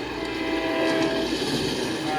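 A train approaches with its horn sounding steadily, a loud sustained tonal blare over rumbling rail noise.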